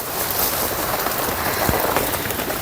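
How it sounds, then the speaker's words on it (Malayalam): Heavy monsoon rain drums steadily on surfaces in an organic garden, a close, continuous patter of dense drops with no voices. "നല്ല മഴയല്ലേ"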